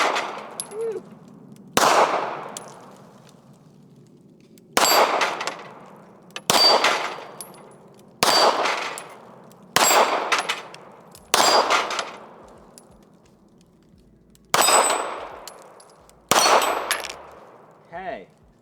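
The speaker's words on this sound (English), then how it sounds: "Alright, so let's shoot our Max 9." Ruger Max 9 pistol firing at an outdoor range, nine sharp, loud single shots spaced about two seconds apart, each with a ringing decay, and little else between them.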